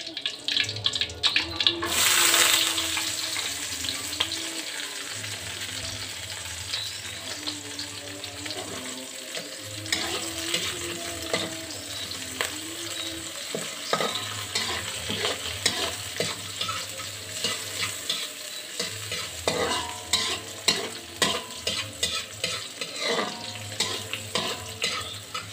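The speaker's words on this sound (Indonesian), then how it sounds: "Terus kita mau tumis ya teman-teman." Boiled papaya leaves stir-fried with shallots, garlic, chili and bay leaf: a steady busy sizzle with repeated spatula scrapes and rustles, close and continuous, with a low hum underneath and occasional faint voices.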